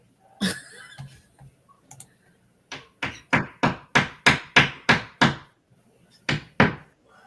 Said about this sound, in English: What are you hammering? Putting the shelf up.